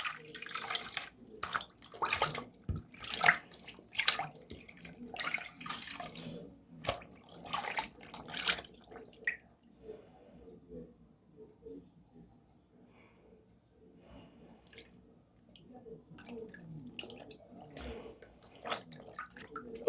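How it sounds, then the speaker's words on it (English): Water sloshes and splashes in rhythmic bursts as a cloth ski mask is dipped and squeezed, then quieter drips and small splashes follow, with a voice talking over it. "dip it in the water, like flip it a couple times, then squeeze that water back out"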